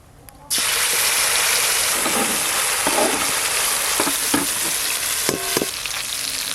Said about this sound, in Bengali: এবার আমি মাছ রান্নাটা করে নেব